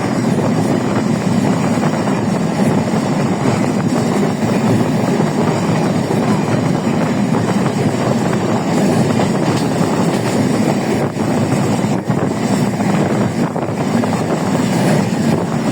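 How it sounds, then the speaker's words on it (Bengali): Nilsagar Express rumbles along steadily on the rails out of Dhaka, a loud continuous roar heard from inside the carriage with wind rush and occasional clanks, no voices. "আমরা যাতায়াত করছি নীলসাগর এক্সপ্রেস ট্রেনটি ঢাকা থেকে ছেড়ে এসেছে সকালে"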